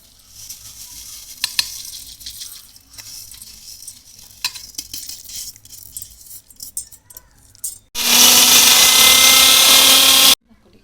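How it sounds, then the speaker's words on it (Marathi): A kitchen mixer grinds garlic chutney ingredients in a loud, steady whir for a couple of seconds at the end, after scattered clinks and handling noises. "जे आपण साहित्य घेतले आहे ते मिक्सरमध्ये बारीक करून घ्यायचं आहे"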